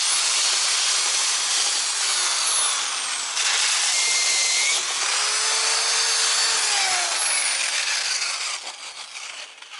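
A power sander grinds steadily across the hull of a human-powered pedal boat, a loud continuous abrasive whir with shifting pitch as pressure changes, tailing off near the end.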